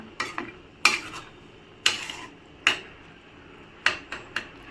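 Spoon stirring vegetables with coriander in a pan over a low gas flame, sharp scraping clinks coming in irregular bursts with quiet gaps between them.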